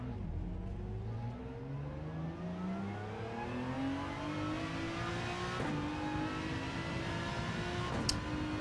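A race car engine in Gran Turismo 7 at Circuit Gilles Villeneuve climbs steadily in pitch as it revs, then drops sharply on an upshift and begins climbing again, with a second brief shift near the end, heard close and continuous.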